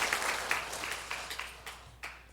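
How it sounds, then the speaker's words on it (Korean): Congregation in a church applauding the conductor and accompanist after a service performance, a steady wash of clapping at moderate distance with a few sharper individual claps standing out. "우리 수고한 지휘자와 반주자를 위해서 박수 한번 보내주시기 바랍니다"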